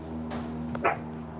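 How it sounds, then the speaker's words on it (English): A single sharp dog bark rings out close by, preceded by faint whimpering yips over a steady low hum. "What you barking at?"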